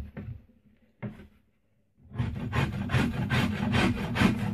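Rasp working the belly of a yew bowstave: two short isolated strokes, then a steady run of close, rhythmic scraping strokes, loud and dry, with no talk.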